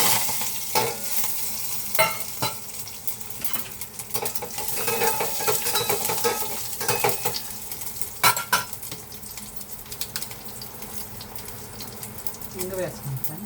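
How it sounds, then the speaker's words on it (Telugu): Tempering spices sizzle in hot oil for Andhra-style sambar, giving a continuous bright hiss broken by sharp clinks and scrapes as a utensil stirs the pan, with someone speaking at times. "ఇంకా ఒక పక్క తాలింపు వేసేసి తిప్పేద్దాం."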